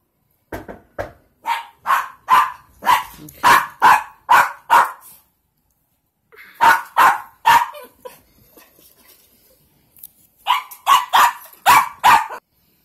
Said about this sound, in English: you heard my dog barking